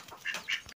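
A short burst of two quick nasal quacks from ducks coming in to feed near a home, faint and close, with nothing else around them.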